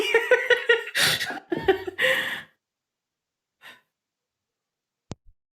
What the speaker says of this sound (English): Needed to blow my nose.